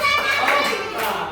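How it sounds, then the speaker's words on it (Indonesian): A classroom of children applauds together during a religious lesson, a dense, steady patter of many hands clapping at close range for more than a second with no speech over it. "tepuk tangan untuk Zio ya."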